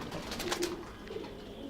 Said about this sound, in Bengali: এই কবুতরটা একটু দেখাই